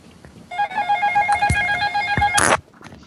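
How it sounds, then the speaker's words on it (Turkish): A telephone rings close by in a steady electronic trill lasting about two seconds, with a couple of soft thumps and a brief burst of noise near its end. "Bu arada yine telefon çalıyor."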